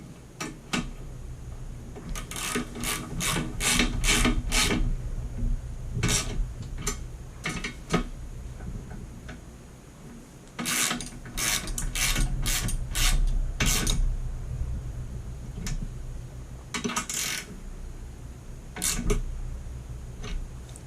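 Ratcheting clicks come in bursts while bolts are tightened on a Harbor Freight motorcycle dolly, close and fairly loud, with short pauses between runs of turning.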